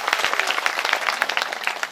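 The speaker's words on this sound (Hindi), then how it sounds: "सबको हाथ उठा करके एक बार जोरदार ताली करें" An audience at a Bhagwat katha recital in Chhattisgarh gives a storyteller a burst of loud applause, dense and sustained hand clapping from many people close by.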